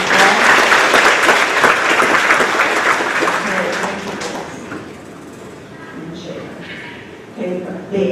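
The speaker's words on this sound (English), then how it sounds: "So give them another round of applause." Audience applause at a grades 4-6 school awards ceremony, loud and sustained for about four seconds before fading into lighter clapping and room noise.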